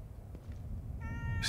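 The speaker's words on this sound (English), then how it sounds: "That's a cat, all right." A cat meows in the horror video game The Evil Within 2, a short, close, plaintive meow with a brief chime-like tone rising at the end, with no voices.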